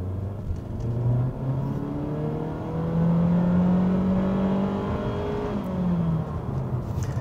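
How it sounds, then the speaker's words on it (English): A 2022 Honda Civic Sport engine, not especially powerful, revs up hard under full throttle, its rising drone climbing steadily and holding loud and close for several seconds. "So that's what it sounds like at full throttle."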